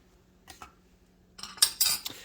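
A teaspoon fills a Bialetti moka pot filter lightly with ground coffee: soft taps at first, then a close burst of metallic scraping and clinking.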